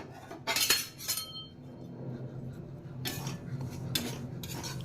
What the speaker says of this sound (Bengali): আমি সুজিটা প্রথমে একটু ভেজে নিই